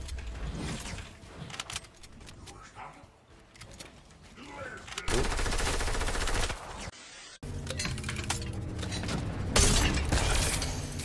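Rapid gunfire from a hunting rifle and other weapons in Fortnite, loud bursts and cracks with mechanical clatter and a sudden drop-out mid-clip, heavy and continuous under a talking voice.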